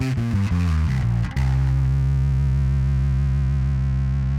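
Bass guitar runs through a Boss ODB-3 overdrive pedal with the dry signal blended into the distortion; a few quick picked notes give way to one loud, sustained, buzzy low note ringing out alone.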